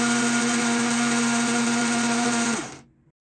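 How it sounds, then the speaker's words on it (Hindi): An electric blender whirs steadily at high speed as it beats three eggs for a simple cake batter, giving a loud, even motor drone that cuts off and winds down near the end. "सबसे पहले हम इन्हें एक दफ़ा अच्छी तरह से ब्लेंड करेंगे।"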